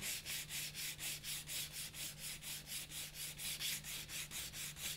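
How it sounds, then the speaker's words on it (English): The inside of a krummhorn reed cane is sanded with 400 grit sandpaper in a quick, even back-and-forth rhythm of soft, close scratchy strokes, about three per second, with no talking. "We're also going to want to sand the inside of it. This is some 400 grit sandpaper."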